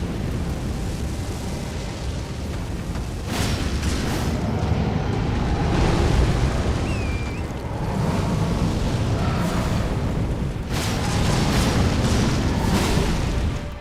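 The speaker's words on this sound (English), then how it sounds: "Just in time before that explosion." A video game explosion in Elden Ring: a loud, sustained rumbling roar of booms and blasts that swells and pulses steadily, with no talking.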